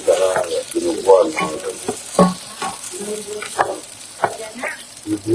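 A taro dish fries in a pan while being stirred, giving a close, busy sizzle with repeated scraping and clinking of a utensil against the pan.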